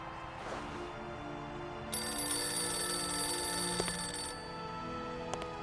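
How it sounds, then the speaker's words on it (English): A telephone rings in the adventure video game Syberia, a bright repeated electronic ring that starts abruptly, holds for a couple of seconds and then stops, clear over a quiet background. "That was a well-timed phone call."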